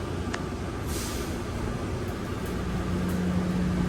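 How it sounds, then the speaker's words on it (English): An airport shuttle train departing from the platform gives off a steady, moderate rumble and hiss inside the car, with a faint tone rising toward the end. "This train is departing."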